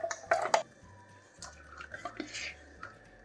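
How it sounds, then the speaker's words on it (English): Water added to a coconut milk jar to rinse it, a few close glassy clinks and splashy drips followed by quieter swishing and dribbling, with no talking. "A little bit of water, I just like to clean"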